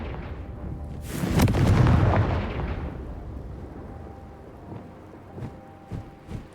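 A Confringo fire spell explodes in Hogwarts Legacy, a loud booming blast that rumbles and fades over a couple of seconds, with a few faint smaller impacts afterward.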